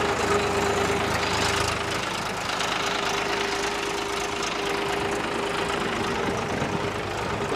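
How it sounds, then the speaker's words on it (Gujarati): A tractor engine runs steadily on automatic steering, a continuous mid-to-low drone with a constant hum and slight knocking texture, loud and close, with no talking. "આ ટ્રેક્ટર હાલી રહ્યું છે ઓટોમેટિક"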